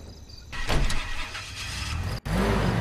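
A car engine in the video game Life Is Strange cranks and catches with a brief whirring surge, falls away for an instant, then settles into a steady running hum.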